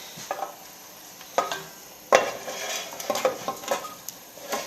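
Seared pork being tipped into a pot of chili ancho base for pork and tomatillo stew, with a soft sizzle, scattered clinks and scrapes of a spoon against the pot, and a few louder knocks.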